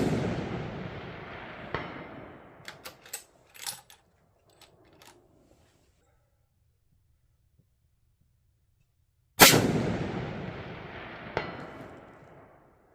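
Two loud rifle shots fired at a 500-yard target, each a hard close bang with a long rolling echo, separated by several seconds of near silence and faint clicks.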